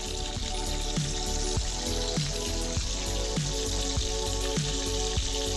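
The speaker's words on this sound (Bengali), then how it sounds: "এভাবে আমি অল্প পিঠ আরও 5-6 মিনিট ভাজা হয়ে গেলে মাছটি নামিয়ে নেব" Rupchanda (pomfret) fish fries in a pan for a crisp restaurant-style fry, giving a steady, close sizzle that runs through the whole stretch with faint recurring clinks and no talking.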